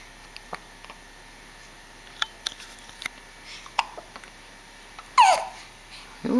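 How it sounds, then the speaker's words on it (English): A young child hiccups several times in a quiet room, short soft catches spread irregularly across the moment, followed by a couple of louder vocal sounds near the end. "You have the hiccups"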